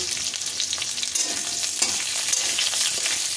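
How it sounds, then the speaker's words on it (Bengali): Onions fry in a hot pan for a paneer dish, a bright continuous sizzle with brisk stirring scrapes, close and clear with no talking. "এবার পেঁয়াজগুলো দিয়ে দিচ্ছি। পেঁয়াজগুলো এবার ভেজে নেব।"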